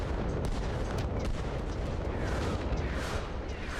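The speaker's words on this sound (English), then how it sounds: "So let's destroy some buildings and see if we can see any noticeable changes." A building is blown apart and collapses in the military shooter Arma Reforger: a steady roar of crashing, crumbling destruction with sharp blast-like cracks, sustained and fairly loud for the whole stretch.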